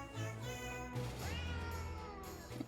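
Cats in the Potionomics video game meow several times in quick succession, drawn-out and fairly close, over soft game music.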